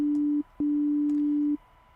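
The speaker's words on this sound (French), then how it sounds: "j'ai effectivement un son sinusoïdal" A synthesizer plays a pure sine wave tone in two clean sustained notes at the same pitch, a short one then a longer one, each stopping abruptly, with nothing else sounding.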